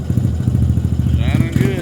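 Honda ATC70 three-wheeler with its small engine turning over and catching, a steady low chugging pulse close by, with a voice briefly heard over it near the end.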